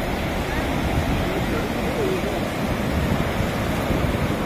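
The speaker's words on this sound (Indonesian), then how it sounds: "Ombaknya besar itu." Big ocean waves roll onto Shek O beach in Hong Kong, a steady broadband roar of surf and wind that fills the whole clip without clear breaks or quiet gaps.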